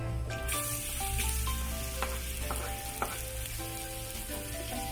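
Onions dropped into hot oil in a wok start a close, continuous sizzle with a few clicks of the utensil. Faint music runs underneath, and no one speaks.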